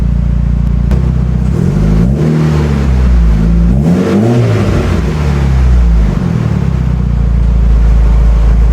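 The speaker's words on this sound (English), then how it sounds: "I can blip the throttle and it doesn't do funny stuff anymore" A Mitsubishi Lancer Evolution 8 engine idling loudly and close, then given several quick throttle blips that rise and fall in pitch before settling back to a steady idle.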